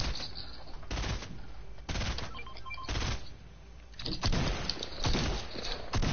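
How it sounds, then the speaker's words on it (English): Gunfire in a video game: several loud broadband shots and short bursts fire at irregular intervals, some close and sharp, with battle noise between them. "I hear shots."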